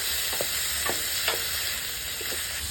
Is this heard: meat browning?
yes